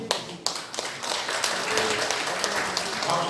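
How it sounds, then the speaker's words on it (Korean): A congregation at a Korean church revival gathering breaks into applause, starting with a few sharp separate claps and swelling into continuous, fairly loud clapping. "여러분 나올 때 뜨겁게 박수로 맞아주시기 바랍니다"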